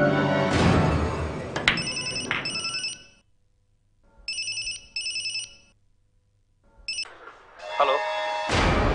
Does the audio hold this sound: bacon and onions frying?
no